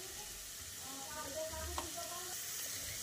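Spices and ingredients for a sweet-sour dal fry in a pan after turmeric goes in, giving a soft, continuous sizzle with a few light stirring clinks.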